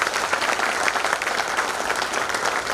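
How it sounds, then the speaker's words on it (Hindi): A crowd at a heart club meeting in an Indore auditorium applauds for a doctor, a dense, steady patter of many hands clapping throughout. "बहुत तालियां बजाएं इनके लिए।"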